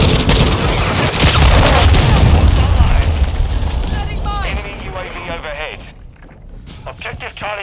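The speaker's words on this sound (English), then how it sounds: "Hostile cruise missile launched" A cruise missile explodes in Modern Warfare II, a heavy sustained rumbling boom that rolls for several seconds, with voices talking over the tail and chirping radio-like tones.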